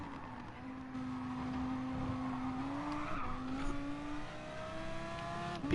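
An Audi race car in Gran Turismo Sport oversteers, its engine holding a steady drone that dips and rises with throttle while tires squeal and skid briefly mid-run, then revving on as it pulls away.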